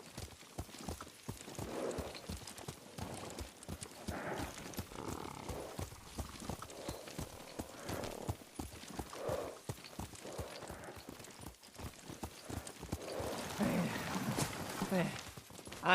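Hooves clip-clop steadily as a horse is ridden at night in the samurai game Ghost of Tsushima, a continuous rhythmic trot under music and ambience, with character voices talking over it.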